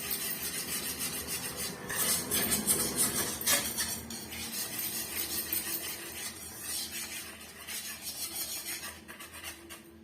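Thick coconut halwa is stirred in a pan with a scraping spoon, giving continuous close rubbing and scraping with occasional light clinks against the metal.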